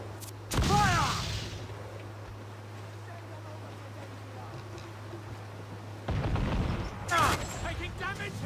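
Ship cannons firing broadsides in Assassin's Creed 4: Black Flag, two heavy booming volleys separated by several seconds, loud and near, with rolling sea and wave ambience between them.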